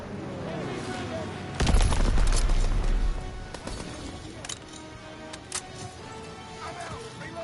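Rapid bursts of gunfire and explosions from a PS4 infantry war game, a loud dense fusillade early on thinning to scattered shots, with game voices calling out over it.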